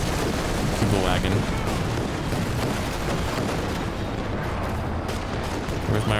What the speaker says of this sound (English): let's drop a half barrage right there